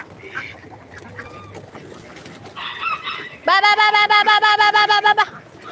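Ducks quack loudly in a rapid, harsh burst of repeated calls close by, after scattered softer bird sounds and faint background noise.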